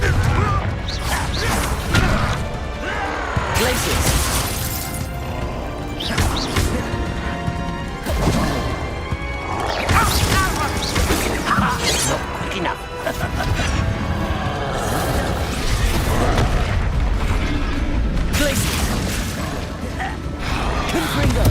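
Confringo explosions in Hogwarts Legacy land again and again as crashing, smashing impacts amid busy combat sounds, loud and continuous, with speech mixed in at times.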